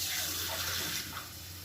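Water saved from boiling green chickpeas is poured into a pan, making a steady soft splashing gush that lasts the whole short moment and eases off slightly at the end.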